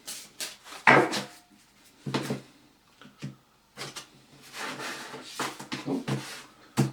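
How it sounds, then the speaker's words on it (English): Tarot cards shuffled by hand in short, irregular bursts of soft riffling and rubbing, close and moderately quiet, with a few faint breaths or murmurs between the bursts. "One more shuffle."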